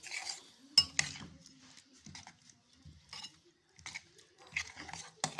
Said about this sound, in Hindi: अब इसमें अंडे जो हमने बीट किए थे वो डाल देंगे और अच्छे से इसको मिक्स कर लेंगे